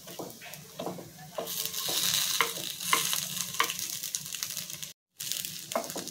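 Flipped appe fry in an appe pan, making a soft, even sizzle with light metal taps and scrapes. Near the end the sound drops out for a brief moment, and no one talks.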